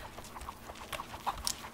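Chickens in the video game Rise of the Tomb Raider give short, quiet clucks and scattered bird calls over faint game ambience.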